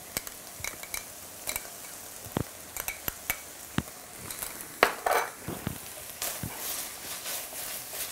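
Lamb with tomato paste frying in a pan for sweet potato shepherd's pie: a steady soft sizzle runs throughout, broken by sharp clicks and scrapes of a utensil stirring against the pan.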